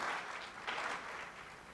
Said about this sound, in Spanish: Un aplauso para recibirlo, por favor, a Maximiliano Montenegro